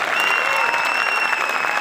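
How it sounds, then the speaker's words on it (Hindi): Audience applause at a Hindi poetry recital, steady dense clapping from the crowd throughout, fairly loud and continuous with no voices over it. "तालियां कम है आपको।"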